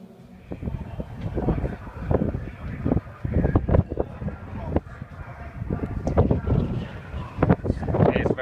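Strong gusting wind buffets the microphone at Silverstone Grand Prix circuit, with loud, uneven low-frequency bursts throughout, and voices are faintly present beneath.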